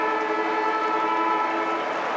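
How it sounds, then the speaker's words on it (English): A loud, steady stadium siren drones continuously at an Australian football match, a sustained mechanical wail echoing across an open space with no voices. "There's the siren."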